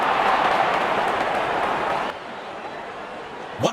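Crowd applause at a Pakistan versus Sri Lanka T20 World Cup cricket match, a broad wash of clapping and cheering that drops off sharply about halfway, leaving quieter stadium noise.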